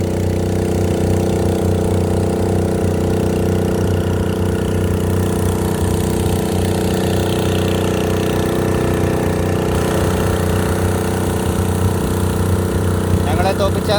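A boat engine drones steadily and loudly up close for the whole stretch, a constant unbroken hum on the water in Kerala during a race with a houseboat.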